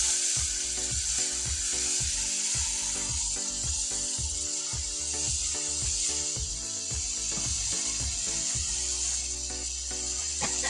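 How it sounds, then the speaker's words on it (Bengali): Potatoes fry in a pan with spices, a steady loud sizzle with rhythmic scraping and clattering of a spatula stirring throughout, no voices. "আলুটা ভাজা ভাজা হোক, তারপরে মশলা দিব"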